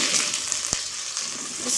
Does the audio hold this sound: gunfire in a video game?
no